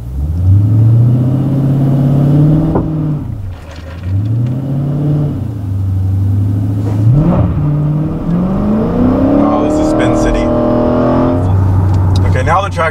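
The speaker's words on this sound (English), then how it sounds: "So I'm gonna set launch control, and hopefully this will work." A Dodge Challenger TA 392 on a wet road revs and launches hard in repeated surges, the engine note climbing through gears with loud, close rasping pulls and brief dips between shifts.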